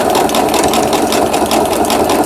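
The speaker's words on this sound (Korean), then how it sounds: "이 패턴 버튼을 눌러서 지그재그 바느질이 되겠습니다." A Riccar home sewing machine runs a zigzag stitch pattern, a steady rapid whirring clatter of needle strokes, close and continuous with no talk.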